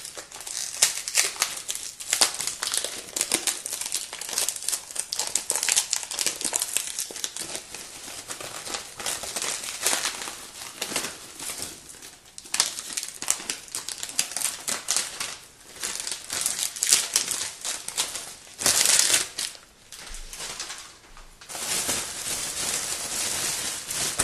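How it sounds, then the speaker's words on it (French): Wafers being crushed inside a plastic bag for a quick no-bake chocolate cake: steady, close crinkling of plastic and crunching that runs almost without pause, with brief gaps and no talking. "Nous allons donc maintenant émietter les gaufrettes."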